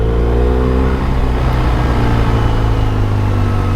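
A 2023 BMW R 1250 RS SE motorcycle engine revving loud and close, a dense low-pitched growl that swells as the revs rise and then holds at a steady high drone.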